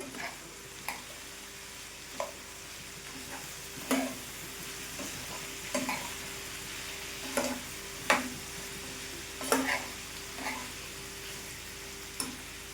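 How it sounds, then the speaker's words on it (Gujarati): Spoon stirring potato chips sabji with added salt in a pan, a steady low sizzle broken by a dozen scattered scraping clacks at irregular intervals, close and fairly quiet with no talking. "હવે બધું સરસ મિક્સ કરી લેશું"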